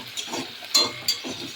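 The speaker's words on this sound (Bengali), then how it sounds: "মশলাটা কষানো হচ্ছে, এর মধ্যে একটু সোয়া সস দিয়ে দিলাম হালকা করে পরিমাণ।" A spice paste thinned with a little water sizzles and is stirred in a pan, a soft steady fry broken by two sharp scrapes or clinks of the utensil against the pan.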